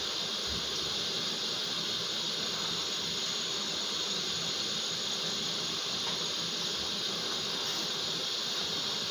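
Maggi noodles cook in a pan on a gas stove, a quiet, even hiss of burner and steam that runs unbroken, with no voices.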